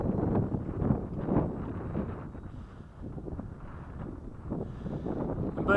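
Gusty wind rumbles and buffets the microphone around a model glider in flight, a continuous low rushing that swells and eases.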